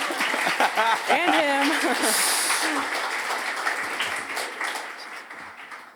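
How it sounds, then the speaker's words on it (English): Applause from an audience fills the room, with a voice speaking briefly over the start before the clapping continues steadily and slowly fades. "can applaud her if you like"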